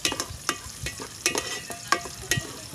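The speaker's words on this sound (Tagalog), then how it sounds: "gisa lang muna natin itong ating mga ingredients mga idol at tayo natin mag golden brown itong ating mga ano, ingredients" Ingredients sizzle and fry in a pan over a wood fire while a spoon scrapes and stirs them in quick, repeated strokes, browning them before chicken is added; close, with no voices.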